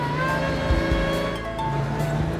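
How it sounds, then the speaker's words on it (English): A rally race car engine is held at full throttle in first gear, a loud, steady, buzzing drone that stays close and unbroken throughout. "Just keep your foot flat to the throttle. They keep it there, first gear."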